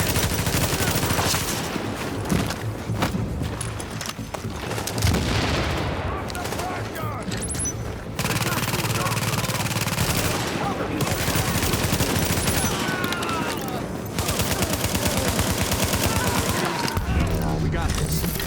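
Heavy, nearly continuous automatic gunfire in the video game The Division, with a dense, loud barrage of overlapping shots and bursts that stays intense throughout, and voices faintly mixed in beneath the shooting.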